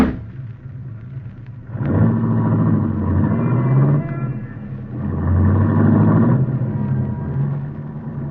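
A long yellow convertible's engine, played as a radio drama effect, rumbles low and steady, swelling in two revving surges before settling back to an idle hum.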